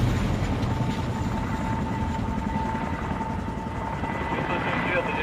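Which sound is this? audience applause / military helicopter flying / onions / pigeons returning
military helicopter flying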